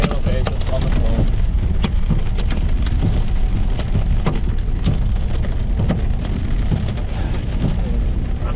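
Hail and heavy rain pound a vehicle while punching through a hail core on a storm chase, a dense, continuous rattle of impacts close by, with voices talking over it.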